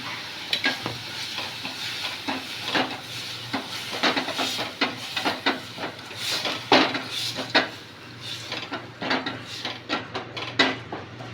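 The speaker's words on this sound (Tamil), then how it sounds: "நல்லா இந்த பதம் வர வரைக்கும் கிண்டணும்" A spoon scrapes and stirs beetroot filling with palm sugar in ghee in a pan, making repeated close clinks and scrapes in an uneven rhythm over a soft, continuous sizzle, with no talk.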